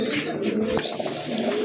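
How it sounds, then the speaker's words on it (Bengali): A pair of deshi gola pigeons cooing close by, soft throaty coos repeating steadily over a low background murmur. "মাশাআল্লাহ দেখেন এক জোড়া গোল্লা কবুতর, এটা কিন্তু অরিজিনালি আপনার দেশি কবুতর"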